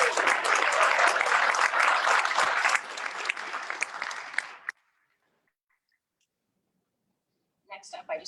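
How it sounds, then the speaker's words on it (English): Crowd applause at an exhibition opening, loud and dense for about four and a half seconds before cutting off to silence, with a few faint claps returning near the end. "Can we just give them another round of applause"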